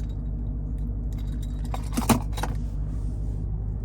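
Red key of a 2021 Dodge Durango SRT Hellcat jangles briefly at close range, a short bright metallic rattle over a steady low engine idle.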